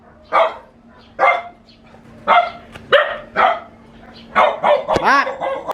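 A dog barks repeatedly in short, fairly loud bursts, with a quick flurry of yips and barks near the end; no talking.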